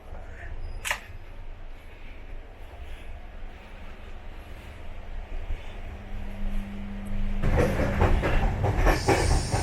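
Interior of a moving AC coach on the Mangala Lakshadweep Express, a steady low rumble and rolling rail noise with occasional clicks and a louder rush of track clatter building near the end, no speech.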